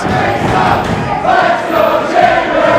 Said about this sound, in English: The crowd firmly behind Chambers